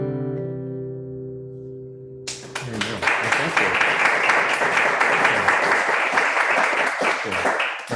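After a few seconds of sustained musical tones, a live audience at a mindfulness session bursts into steady, full applause that continues to the end.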